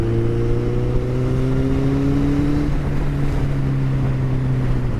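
A Kawasaki ZX14R motorcycle engine drones steadily, its pitch rising as it accelerates, with wind rushing throughout.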